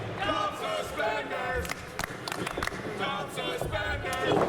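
Wrestling crowd at a GWE show jeering and shouting at the wrestler Defarge, mixed voices rising and falling at mid distance with scattered thuds and claps.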